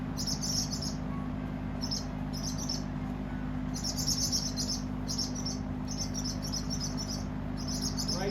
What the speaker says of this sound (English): you can see them starlings flying around